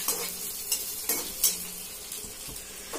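Indian tempering spices crackle and sizzle in hot oil, with a few sharp clinks of a spoon against the pan, close and steady with no talking.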